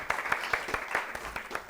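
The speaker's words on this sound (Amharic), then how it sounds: "እሺ አጨብጭቡ ለራሳችሁ።" Studio audience on an Ethiopian children's TV show claps in a quick, steady rhythm of sharp, close hand claps, with no voices.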